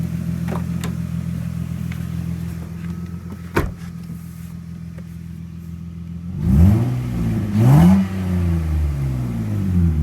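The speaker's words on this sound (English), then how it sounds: "Car's idling down. Running like it should." A Lexus IS300 engine idling steadily and close by after a throttle repair, a low even hum with a sharp click partway through and two short revs rising and falling near the end.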